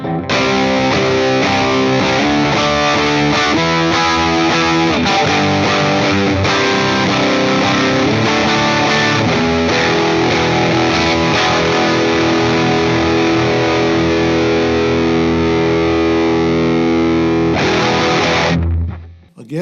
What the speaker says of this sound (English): Let's listen to the Rocket Man with no other effects.